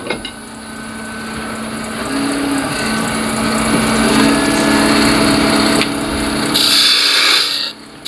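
A wood lathe spins steadily while a spindle gouge cuts a pepper mill blank, a loud continuous hum with a scraping, rasping cut layered on top and a brighter hiss near the end.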